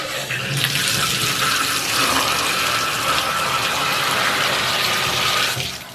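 Water runs steadily from a Pfister shower just after its cartridge was replaced, a loud continuous rushing spray that starts abruptly and cuts off near the end, with no voices.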